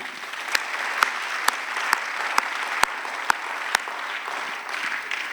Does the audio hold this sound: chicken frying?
no